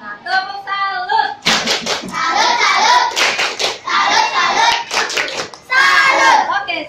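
A class of children performs a rhythmic clapping routine in bursts, several quick claps in unison, with children's voices calling along between the claps.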